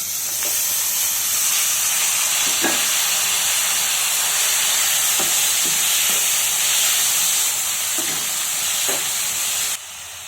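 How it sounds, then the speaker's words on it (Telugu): Cabbage pieces fry in a hot tempering of lentils, cumin, dried chilli and curry leaves, giving a loud, continuous sizzle and hiss with occasional soft scrapes of stirring throughout. "పోపు వేగిపోయింది. ఇప్పుడు క్యాబేజ్ ముక్కలు వేసుకున్నాం."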